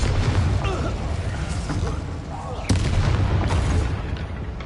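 A Confringo explosion spell goes off in Hogwarts Legacy amid a dense, continuous battle din, with a sharp burst standing out partway through and speech-like chatter mixed into the busy combat noise.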